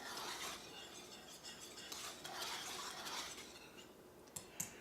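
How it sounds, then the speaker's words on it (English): Flour being stirred into melted butter in a pan for a roux, giving a soft, continuous scraping and swishing with faint utensil clinks near the end, close and fairly quiet with no talking. "you're going to add 3/4 of a cup of flour and let that stir that up"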